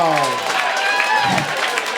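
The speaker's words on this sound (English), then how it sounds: "Look at all the women clapping." A stand-up comedy audience bursts into dense applause with some cheering, the women clapping loudly and close, mixed with voices and laughter.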